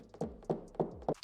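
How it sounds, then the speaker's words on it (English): Four soft, evenly spaced taps on a car panel with a paddle knockdown tool, muffled and close, with a dull thudding quality. "I'm going to actually go ahead and use this paddle. It has a built-in knockdown on it here."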